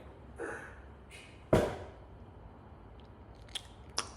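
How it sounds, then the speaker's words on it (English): Sporadic crunchy chewing and biting sounds, with one sharp crunch and a few softer clicks over a quiet room background. "hear a little bit of chewing"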